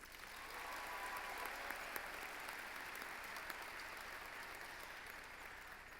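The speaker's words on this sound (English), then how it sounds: "Please give another round of applause for Ms. Jeffries." Steady applause from a crowd fills the whole stretch, a dense, even wash of clapping at moderate distance, at a 2024 high school commencement ceremony.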